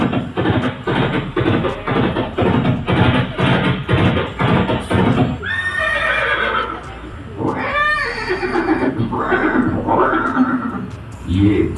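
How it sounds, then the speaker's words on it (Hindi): A horse whinnies repeatedly in a museum diorama of Maharana Pratap's last meeting with his horse Chetak at Haldighati. The loud neighs sound like a recording and come after a stretch of speech-like sound. "ये दृश्य महाराणा प्रताप और सुविख्यात स्वामी भक्त घोड़े चेतक के अंतिम मिलन का है।"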